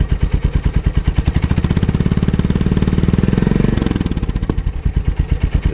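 A Royal Enfield Hunter 350 motorcycle fitted with a short slip-on exhaust idles close up with a deep, throaty, rapid pulsing exhaust note, briefly revving slightly before settling back to idle.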